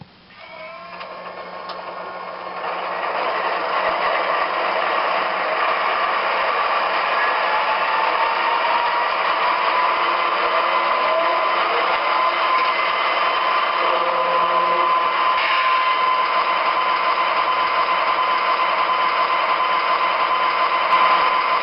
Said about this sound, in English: what I'm going to do is to start this engine up, let you hear some of the sounds